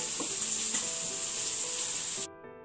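Liver and potatoes cooking in a pan give a steady bright sizzle with light scraping and stirring noises, close and even, cutting off abruptly near the end.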